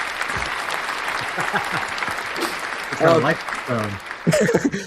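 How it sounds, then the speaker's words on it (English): A podcast audience breaks into steady applause and cheering while people talk and laugh over it, the clapping continuing throughout under several voices. "round of applause for Ronald's hair tonight"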